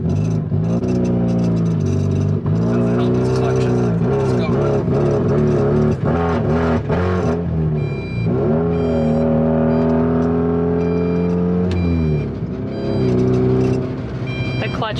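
A Mazda Miata drives along with a steady engine drone that rises and falls in pitch as it accelerates and shifts, heard from inside the car while a person talks over it.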